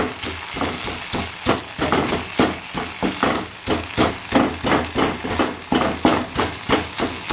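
Cluster beans that were tapped and split before cooking stir-fry in a pan, giving a steady sizzle broken by repeated rhythmic scraping strokes of a spoon against the pan, close and fairly loud, with no voices.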